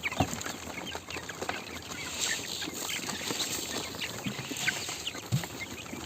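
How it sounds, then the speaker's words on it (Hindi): Hens on a poultry farm cluck softly while gathered at their feed, with scattered low clucks and a few sharper calls over a faint background. "सारी मुर्गियाँ अभी इकट्ठा होकर फीड खा रही हैं"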